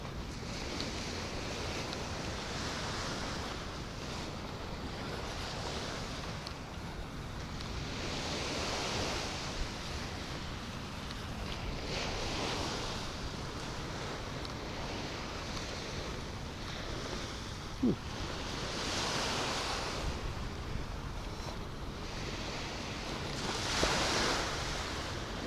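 Steady ocean surf rolls onto a Florida coastal beach in the morning, broad washes of breaking waves swelling and fading every few seconds, with a light breeze and no talking.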